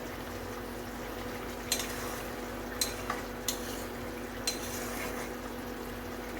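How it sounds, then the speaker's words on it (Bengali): Fried katla fish pieces go into a boiling curry, a steady bubbling simmer with a few soft clinks of a spoon against the pan, no talking. "ঝোলটা ফুটে গিয়েছে এবার আমি ভেজে রাখা মাছগুলোকে দিয়ে দিলাম"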